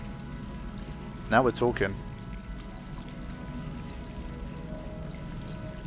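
Water pours steadily in the video game Stray, a continuous low running hiss beneath a short spoken phrase.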